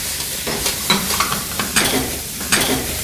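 Onions and black mushrooms cooking in a pan with capsicum, loud close sizzling broken by repeated scraping stirs of a utensil in an uneven rhythm, no voices over it.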